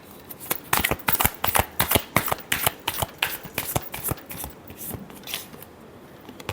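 A deck of tarot cards is riffled and shuffled up close, a rapid run of crisp flicking bursts that slows and fades toward the end.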